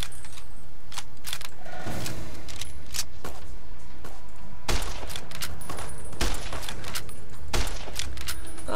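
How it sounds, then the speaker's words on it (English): Dense gunfire in a protracted gun battle from Fallout: New Vegas, sharp shots and bursts crackling nearly nonstop and loud throughout, with heavier cracks standing out midway. "This is not what I wanted, a protracted gun battle"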